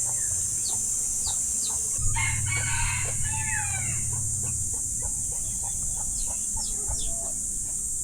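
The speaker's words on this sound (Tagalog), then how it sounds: "sisilipin muna natin ng ano, mga manok ni Kuya Nogi" Chickens cluck and chirp nearby at Taal Lake, Batangas, while a rooster crows loudly partway through, over a constant high-pitched insect drone.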